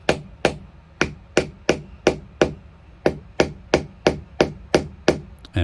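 A wooden dowel is tapped into a drilled hole during a vintage Hohner Shark Fin guitar restoration: about fifteen sharp, close knocks in a steady, even rhythm, each ringing briefly, with no talking.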